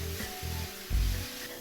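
Shin Ramen noodles stir-fried with vegetables, egg and sauce, tossed with chopsticks in a hot pan: a steady, soft sizzle with light scraping and shuffling, brief and close.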